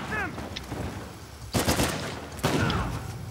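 Enemy shotgun blasts in the video game Uncharted 4, two loud, broad booms about a second apart, each with a short roar, set against ongoing game noise and brief chirps.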